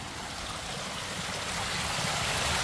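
Heavy rainwater pouring through a lake's emergency spillway after severe storms, a loud, continuous broadband rush of churning water that swells slightly toward the end.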